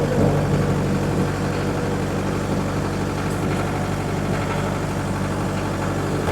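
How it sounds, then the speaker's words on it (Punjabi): A Sonalika 60 DI 4x4 tractor engine runs steadily at close range on a wheat-sowing job, a continuous low diesel rumble with even pulsing that holds without breaks. "ਲਓ ਬਈ ਟਰੈਕਟਰ ਚਲਾਤਾ"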